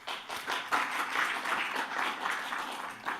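A conference audience claps together, a dense, steady round of applause that carries on without a break for a few seconds.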